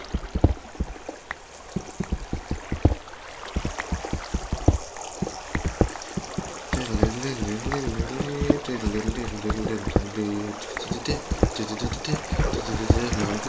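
Splashing and sloshing water from a character swimming in Minecraft gives a busy, irregular run of small splashes and plops at moderate level, with voices talking over the game sounds.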